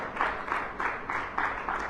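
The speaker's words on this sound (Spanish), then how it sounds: "¿Cuánto dan un aplauso fuerte al Señor," A church congregation at a Sunday service claps in a strong, regular rhythm, evenly spaced beats of applause at moderate loudness with no other sound.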